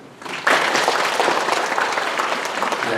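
Audience applause at a town residents' briefing on the Daejeon–Chungnam administrative merger in Gyeryong, a loud burst of clapping from a crowd that starts abruptly and holds steady to the end.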